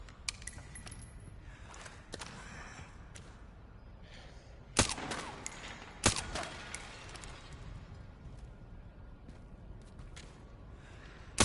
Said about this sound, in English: Rifle time.